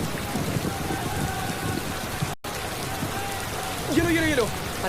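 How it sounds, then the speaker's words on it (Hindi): Steady rain falls during an outdoor cricket match, a continuous moderate patter filling the scene while a voice speaks briefly near the end. "बारिश आ गई।"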